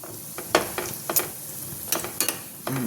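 Gathiya and cashews shallow-fry in oil until golden, giving a quiet, close sizzle broken by several scraping stirs of a spoon in the pan.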